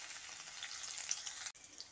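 Mustard seeds and Bengali five-spice tempering frying in hot oil, a steady close crackling sizzle with a brief break near the end, no talk.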